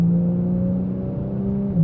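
A 992.1 Porsche 911 Turbo S pulls from 40 to 80 while being short shifted, a steady, moderately loud engine drone with a slowly rising tone heard from inside the cabin.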